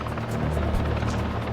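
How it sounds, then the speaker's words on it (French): A construction helicopter hauling dome pieces at the Beauval zoo park thuds overhead, its rotor beating in a loud, steady rhythm over a constant engine roar. "S'il veut finir avant la nuit, l'hélicoptère doit maintenir une bonne cadence."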